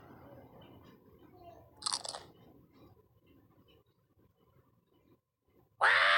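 A cartoon parrot crunches crackers in a Peppa Pig matching game. One brief, crisp crunch stands out over quiet background sound, and a loud sound cuts in at the end.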